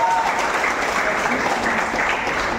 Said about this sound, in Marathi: प्रवीण पाटीलसाठी जोरदार टाळ्या होत्या